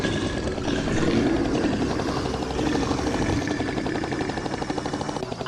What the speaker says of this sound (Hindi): एक हेलीकॉप्टर आ रहा है।